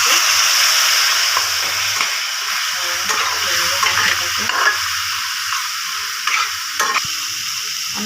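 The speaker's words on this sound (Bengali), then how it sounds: "এবার আমি ভালো করে মশলাটা কষিয়ে নেবো" Masala with chili and turmeric powder sautéing in a pan for egg pulao, a continuous sizzle broken by spatula scrapes and stirring taps.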